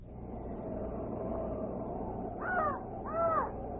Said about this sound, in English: I only hear a raven croaking.